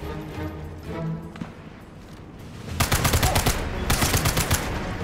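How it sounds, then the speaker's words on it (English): Bursts of automatic gunfire and rapid shots from the video game Sniper Elite 5, loud and dense. The rapid firing starts midway through the clip after a quieter stretch of game ambience. "Oh my god, who is shooting?"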